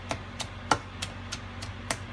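A knife cuts through butter with about seven sharp, evenly spaced taps against a board, close and fairly quiet, with no talking.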